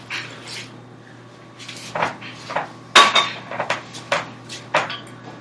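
Scraping and knocking of a utensil stirring a thick, sticky dough mixture with boiling water added in a bowl, irregular clacks and scrapes close by, with a steady low hum underneath.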